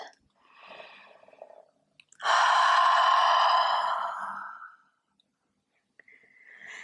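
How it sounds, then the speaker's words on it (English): A long, deep exhale during a yoga flow, a loud breathy rush close to the microphone that lasts a couple of seconds and trails off, preceded by a softer breath. "Let's take a deep inhalation, and as you exhale,"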